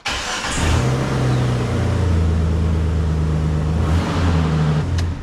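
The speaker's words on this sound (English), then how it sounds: "Developed an exhaust leak." A Jeep Wrangler JK engine with an exhaust leak rumbles loudly and steadily up close, with a deep throaty exhaust tone that rises slightly as it revs.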